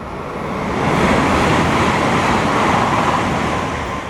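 A train passing on the Marshlink Line, a steady broadband rumble and rush that swells over the first second and then holds loud and continuous, with no voices.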